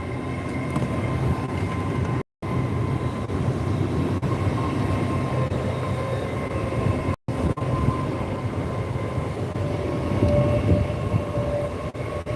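A train rolls through Peterborough station on its way to Doncaster, a loud sustained rumble with squealing tonal hums from the wheels and rails, steady for the whole stretch apart from two brief dropouts.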